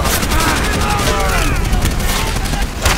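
Weapon fire in the video game World at War: loud, dense rapid gunfire rattling on without a break, with voices talking beneath it.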